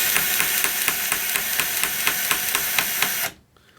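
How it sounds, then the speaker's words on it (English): Milwaukee M12 2472-20 cable cutter motor driving its gearbox to ratchet the cutter, a steady loud whir with regular clicking pulses that stops abruptly near the end. "basically it's a motor with a gearbox that ratchets this cutter"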